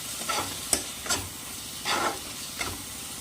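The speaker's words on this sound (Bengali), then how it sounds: "আবারও একটু ভালো করে মশলাটা নেড়ে চেড়ে মিশিয়ে নেব" Spices with Kashmiri red chili powder and turmeric are stirred in oil in a pan, giving a low steady sizzle broken by four or five scraping spatula strokes, close and without talk.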